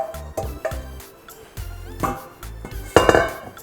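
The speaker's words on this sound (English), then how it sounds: "I'm just gonna give it a good stir." A spoon stirs zucchini sauce with gizzards in a Salad Master stainless pot, giving a handful of close metallic scrapes and clinks in an irregular rhythm with no talking.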